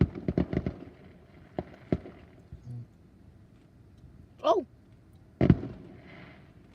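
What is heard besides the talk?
fireworks exploding at Ocean City inlet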